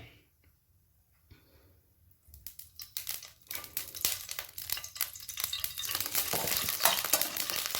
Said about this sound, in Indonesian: Kemudian kita masak yang bawang putihnya.